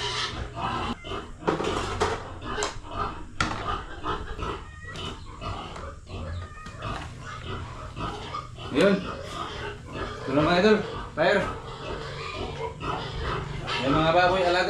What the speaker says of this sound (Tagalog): Mga baboy alaga yan sa kapitbahay namin.